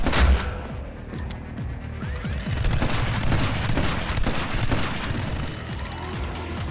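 Rapid gunfire in the video game My Friend Pedro, dense bursts of shots and mechanical clatter layered over game music, loud and continuous.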